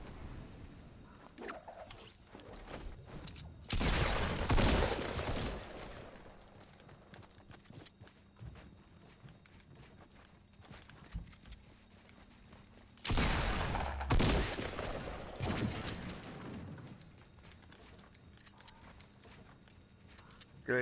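Fortnite video game gunfire comes in two loud bursts of rapid shots, separated by quieter stretches of faint game ambience.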